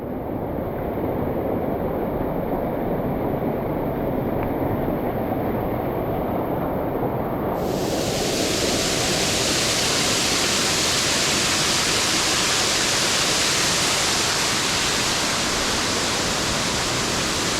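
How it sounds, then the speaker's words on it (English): Waterfall beside a bush track in the Blue Mountains, a loud continuous broadband rush of falling water that brightens and swells partway through, heard alone without talk. "Looks like another waterfall."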